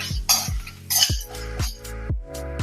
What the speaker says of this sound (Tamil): இப்போ மசாலாவை வறுத்து எடுத்துக்கோங்க